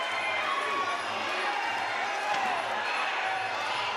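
Arena crowd at a WBC lightweight boxing title fight cheering and roaring steadily throughout, a dense continuous wall of noise with commentators talking over it.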